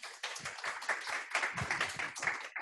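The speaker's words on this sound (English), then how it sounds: "I'll like to invite everyone to give Sarah another round of applause" Applause from an audience after a talk at a university library event, a soft, fairly brief patter of many hands clapping, faint and somewhat distant.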